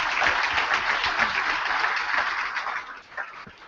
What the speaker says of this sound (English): let's give all of our entrepreneurs one last round of applause